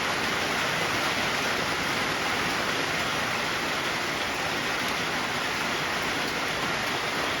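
Heavy rain pours down during a storm ahead of Hurricane Helene, a dense, steady hiss of drops drumming on surfaces with no break.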